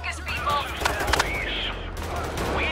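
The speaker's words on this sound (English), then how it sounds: "I'll just shoot at the cops" Gunfire at police in the heist video game PAYDAY 3, a busy mix of rapid shots and bursts over constant game noise, with spoken voices partly in the mix.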